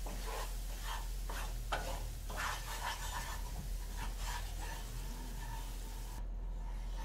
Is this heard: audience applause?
no